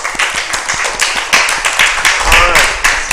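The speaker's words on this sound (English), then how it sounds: "Give yourselves a round of applause" Children clap through a round of applause after a storytelling session at a heritage house, the claps dense and steady at close range and continuing without a break.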